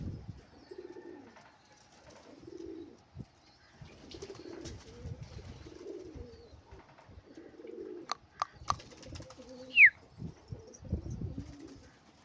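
Pigeons coo repeatedly in a loft, soft rhythmic calls close by, with scattered wing flutters and sharp clicks toward the end.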